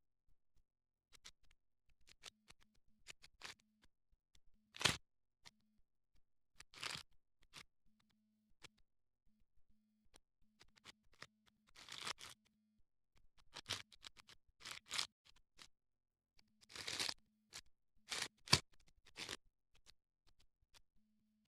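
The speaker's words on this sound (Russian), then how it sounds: "наш не очень острый ножик рвет беспощадно пакеты" Dull knife ripping and scraping through plastic parcel packaging from China, a series of sharp, close tearing and crinkling bursts separated by quiet gaps.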